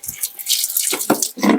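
A wrung-out cloth soaked in detergent water drips and splashes into a bucket, making short wet spatters and a brief trickle close by, fairly loud, with no voices.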